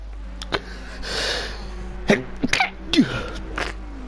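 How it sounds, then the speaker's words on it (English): A single sneeze bursts out over the faint background of a sim-racing endurance race broadcast, followed by a few short sniffs and breathy sounds close to the microphone. "I do apologise for sneezing down everyone's ear."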